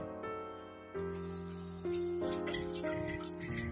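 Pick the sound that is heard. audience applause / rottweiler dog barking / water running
water running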